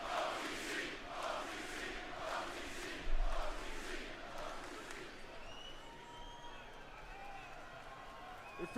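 A WWE Raw arena crowd in Paris roars and chants in rhythmic waves, loud and dense at first, then settling into a sustained cheering din as a voice speaks over it.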